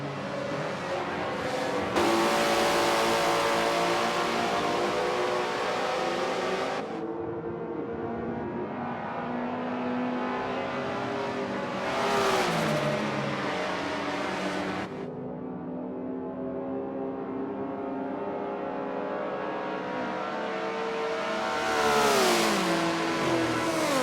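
Race car engines in the Forza video game with a Ford close behind, a loud sustained roar repeatedly climbing in pitch through the gears, dropping at each shift and revving up again, with no talking.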